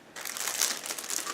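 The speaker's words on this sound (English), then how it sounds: "Give me a second to cut through the plastic bag" Crinkling plastic bag being cut open to unpack a Kajika 1/700 Hiei warship model kit, a fairly loud, continuous rustle lasting over a second with no talking.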